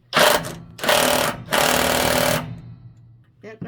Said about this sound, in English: I'm putting the socket on the old anode rod, and then I'm going to put the drill down on it.